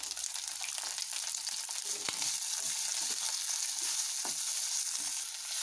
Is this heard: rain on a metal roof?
no